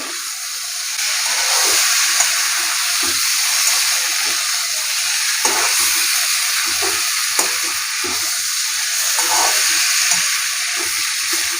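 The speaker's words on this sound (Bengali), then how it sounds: "ইঁচড় আর আলু দিয়ে এবার মশলাটা এর সাথে কষিয়ে নেব" Young jackfruit and potatoes sauté with spices in a pan, giving a steady loud sizzle and hiss with occasional scraping clicks from stirring, close up and without speech.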